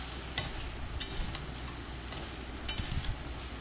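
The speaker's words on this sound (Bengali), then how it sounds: "সব সবজিগুলোকে দিয়ে আমি বেশ কিছুক্ষণ ভেজে নেব।" Mixed vegetables for shukto, including potato, pumpkin, drumstick, pointed gourd, green banana, carrot and bitter gourd, frying in a pan with a constant sizzle and a few sharp spatula scrapes and clinks, close up.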